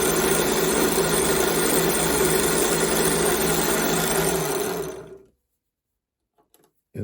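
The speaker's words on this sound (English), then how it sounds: "So let's go ahead and drill these through." Power drill boring clearance holes through the mount points of O scale model train trucks, a loud steady whine held for about five seconds, then winding down into silence.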